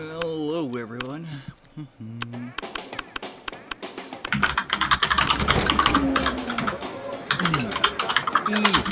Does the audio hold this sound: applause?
no